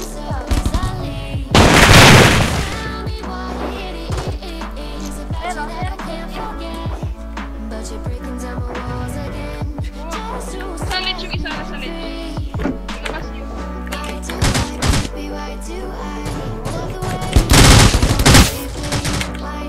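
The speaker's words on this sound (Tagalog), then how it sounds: "May bumabaril sa malayo." Gunfire crackles throughout a squad shooter video game match, with rapid scattered shots, some bursts louder and closer and others more distant, repeating irregularly.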